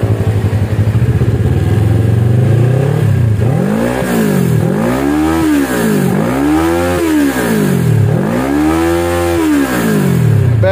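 A loud, raw Kawasaki ER6N motorcycle with an Akrapovic exhaust and its baffle removed idles roughly then revs up and down repeatedly in rising and falling sweeps, harsh and unmuffled, very close.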